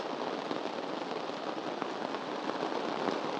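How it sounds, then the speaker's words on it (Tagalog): Heavy rain pours steadily at a white sand beach campsite in Unisan, Quezon, a dense, even hiss of countless drops with no breaks, close and enveloping. "umuulan na ng malakas."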